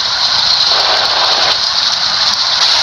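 Heavy rain in a bus driving simulator game, a loud steady hiss of downpour that runs unbroken throughout, with no voices.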